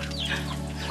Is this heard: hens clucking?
yes